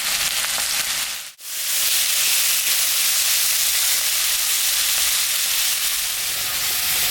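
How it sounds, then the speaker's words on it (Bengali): Potatoes frying in oil with salt and turmeric for a rohu fish-head curry give a steady, loud broadband sizzle that drops out for a moment early on, then resumes evenly, with no talking. "আলুটা ভাজা ভাজা হয়ে গেছে"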